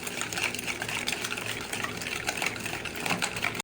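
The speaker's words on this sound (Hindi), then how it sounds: "देखिए आहिस्ता आहिस्ता हम मिक्स कर रहे हैं।" Slow, steady stirring of vanilla plain cake batter in a bowl, a continuous soft wet swishing and scraping that stays close and even throughout, with no voices.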